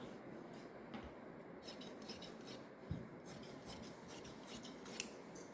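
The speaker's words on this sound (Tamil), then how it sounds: "இந்த கையை நம்ம தனித்தனியாக கட் பண்ணிடுவோம்" Scissors snip through the sleeve fabric of a boat-neck blouse, making faint, repeated rasping cuts with a couple of sharp clicks and no talking.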